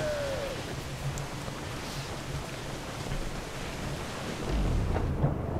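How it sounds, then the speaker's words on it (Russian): Heavy downpour in the pirate video game Assassin's Creed IV: Black Flag, a dense steady hiss of rain with low rumbling surf and ship sounds underneath, swelling slightly near the end. "На локациях очень красиво дождь выглядит, когда идет такой проливной."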